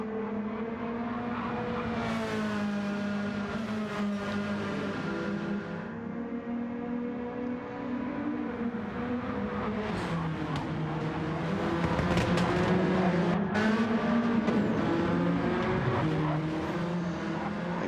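Race cars accelerate hard around a track during a RoadKing race, engines roaring with rising and falling pitch through gear changes, a dense continuous snarl that swells louder toward the end.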